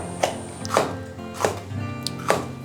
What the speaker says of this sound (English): Gently chop the pepper.